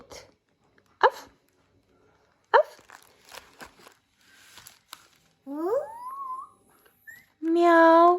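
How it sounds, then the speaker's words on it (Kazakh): A dog gives a few short, separate barks during a children's learning game, with quiet gaps, clicks and soft voices between them. Later, gliding tonal calls and a loud sustained harmonic sound follow. "Ит."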